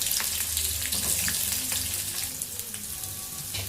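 Onions go into hot oil in a pan and sizzle close up for a few seconds.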